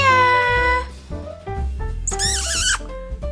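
A cat meows loudly several times in drawn-out, wavering calls, close by, with a shrill rising yowl near the end.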